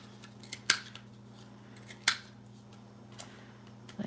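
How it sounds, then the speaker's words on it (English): Scissors cutting the corners off paper, two sharp close snips spaced about a second and a half apart over a quiet room hum, with a faint third click at the end. "going to cut the corners."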